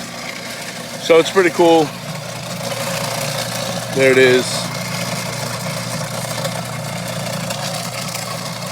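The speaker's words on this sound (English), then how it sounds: "We just got this Carnival King snow cone machine." A Carnival King snow cone machine runs outdoors as a low, steady mechanical hum, while a person briefly talks over it twice.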